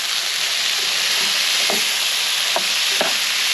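Chipolata sausages, onions, mushrooms and tomatoes fry in a pan at a caravan camp, making a loud, constant sizzle with a few soft utensil scrapes, and nobody speaks.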